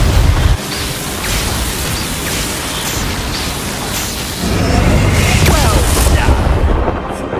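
A Confringo fire spell blasts during combat in Hogwarts Legacy, producing loud booming explosive bursts over a continuous rumbling battle din, with a heavier impact surge near the middle.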